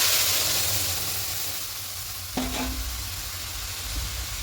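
Boiled vegetable lentil dal poured into a pan of fried onions, a single splash and brief hiss over a steady background sizzle, close by.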